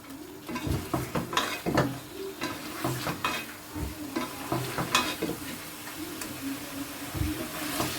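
Dry spices with turmeric being roasted in a pot for malai makhni chicken handi: a steady close sizzle with frequent scraping and clinking of a spoon stirring against the metal.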